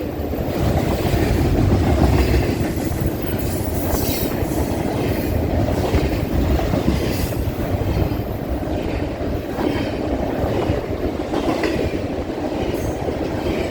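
A big freight train rolls past at Colton, a loud, steady rumble of rail cars and clattering wheels with faint squeals, continuous and close throughout.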